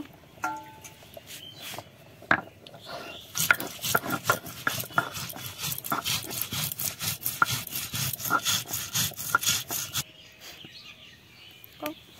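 Black mustard seeds, cumin and green chillies are ground into a paste by hand, with rapid rhythmic scraping and rubbing strokes, loud and close, preceded by a few scattered knocks and ending abruptly.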